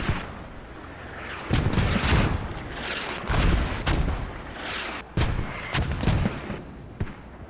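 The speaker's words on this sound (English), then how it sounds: "They're mortaring main." Repeated heavy booms of mortar fire in a multiplayer war game match, several deep thuds in irregular succession, some overlapping, with a rumbling battlefield bed between them.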